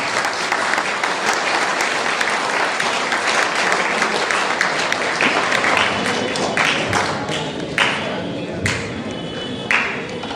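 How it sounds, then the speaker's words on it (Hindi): Sustained applause from an audience at a district-level youth parliament event, dense steady clapping filling the room, with a few louder individual claps standing out as it begins to thin toward the end. "जोरदार तालियों से सर का स्वागत किया।"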